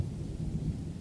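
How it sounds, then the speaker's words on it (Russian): Distant thunder rumbling in the Spin Tires truck game on the Zasada map, a short, faint, low growl with rain hiss around it and no talking. "Слышите, гром гремит?"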